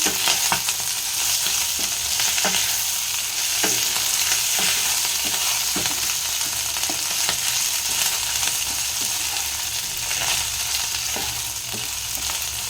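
Chopped green chilies frying in a pan, a steady loud sizzle with scattered stirring clicks and scrapes running throughout, no voices.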